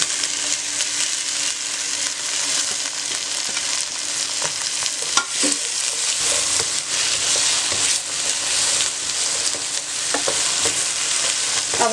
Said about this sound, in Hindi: अब आपने इनको हल्का सा फ्राई करना है, तकरीबन 2 मिनट के लिए।